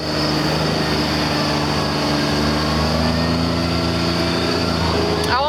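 A 2015 Kawasaki MULE PRO-FXT side-by-side engine-brakes down a hill, giving a steady, moderately loud engine drone that holds nearly constant for several seconds.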